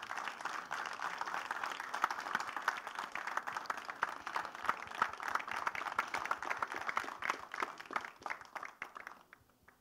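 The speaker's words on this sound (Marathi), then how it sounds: "एकदा जोरदार टाळ्या झाल्या पाहिजेत." A large audience applauds at a Marathi film trailer launch, the steady roar of many hands clapping filling the room for nearly ten seconds before thinning out at the end.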